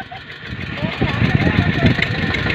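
An Eicher tractor engine runs with a mid-pitched, uneven chug that grows somewhat louder and busier partway through, suggesting added throttle, while voices talk over it outdoors.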